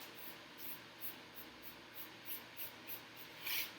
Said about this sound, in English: Use one of our misters. They're designed to spray just the right amount of water that the paint needs.